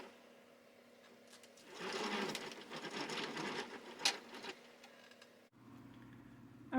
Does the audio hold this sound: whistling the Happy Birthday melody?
no